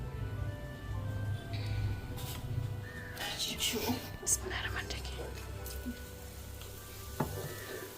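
Chilli bajji fry in hot oil with a steady bubbling sizzle while a person talks quietly over it, plus a few utensil clinks.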